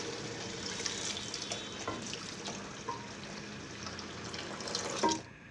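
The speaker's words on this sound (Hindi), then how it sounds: "और साथ ही में पानी ऐड कर दूँगी।" Water, about one liter, runs in a steady, splashing stream into a cooking pot of minced meat and peas, close and fairly quiet, with a brief louder gush near the end.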